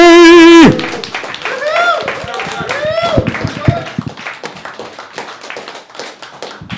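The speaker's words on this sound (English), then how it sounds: "Give a big round of applause for George Tarabay!" After a brief loud sustained tone, an open-mic stand-up comedy audience claps for a comedian, a dense burst of many hands that thins and fades over several seconds.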